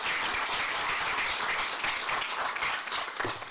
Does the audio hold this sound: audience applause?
yes